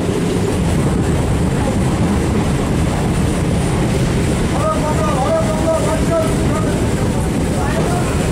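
A train pulls into Gobordanga station with a loud, continuous rumble of wheels and carriages, and a squeal near the end as it slows. Voices murmur faintly underneath.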